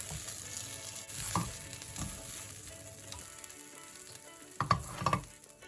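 Tomato and onions sauté in a pan with a steady soft sizzle throughout, broken by a few sharp utensil clinks and scrapes near the start and again toward the end.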